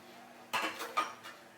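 Prawns are tipped into a cooking pot of Bengali chal kumro ghonto with its lid lifted, giving a few quick metallic clinks and clatters of utensil against the pot, close and fairly quiet, with no talk.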